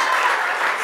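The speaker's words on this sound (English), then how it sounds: "Clap all the way outside," A comedy club audience claps in a short, steady burst of applause during a competitive shouting bit.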